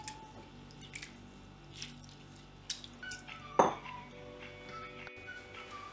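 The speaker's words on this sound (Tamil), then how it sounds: "இப்போது இதில் தண்ணி ஆட் பண்ணிவிட்டு இந்த பருப்பை நல்லா வாஷ் பண்ணிடலாம்." Masoor dal lentils being washed in water inside a vessel: faint splashing and squishing with a few light clinks and drips, plus one sharper knock midway, all without talk.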